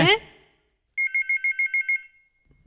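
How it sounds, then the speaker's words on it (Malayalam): A telephone rings indoors in a home during a family scene: a bright electronic trill of about seven quick pulses, clear and alone, with people talking just before and after. "ഫോൺ അടിക്കുന്നു"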